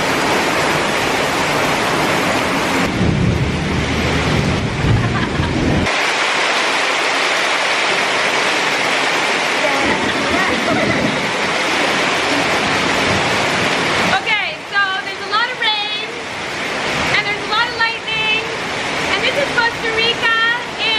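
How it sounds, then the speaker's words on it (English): Steady heavy rain pours down during the rainy season in Costa Rica, a dense, even hiss that fills the scene throughout, with high chirping calls coming through in the later part. "So it's raining"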